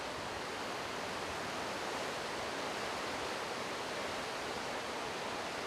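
Hukou Waterfall on the Yellow River gushes in a dense, unbroken roar of rushing water, loud and even throughout with no other sounds.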